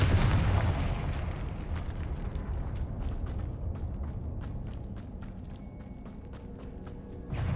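A spell blast in the Hogwarts Legacy video game: a loud booming explosion at the start that rolls into a long, fading rumble with scattered crackles and pops.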